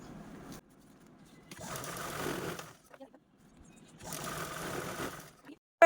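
A sewing machine stitches along the lace edges of an old saree in two fairly quiet bursts of rapid needle whirring, separated by pauses filled with softer handling sounds.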